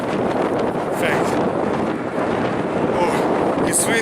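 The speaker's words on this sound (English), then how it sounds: "Oh, it's windy right now." Strong wind buffets the microphone in a continuous roaring rumble near Lake Louise in Alberta, with brief gusts and no speech.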